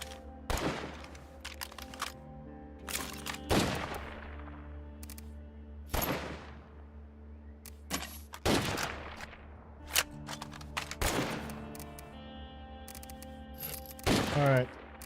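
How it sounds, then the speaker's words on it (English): Rapid bursts of full-auto magnum gunfire in the zombie survival game State of Decay 2, several loud separate volleys spread through the clip over a steady low game hum. "A full auto magnum?"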